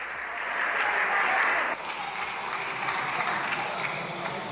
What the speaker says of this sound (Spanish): Y la aplaude Podemos, Sumar, Bildu, ya saben.